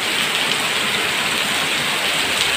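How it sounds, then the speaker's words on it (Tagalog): Steady, dense rain pours down heavily during a typhoon, a constant hissing roar with no pauses or voices. "Lakas ng buhos ng ulan, no?"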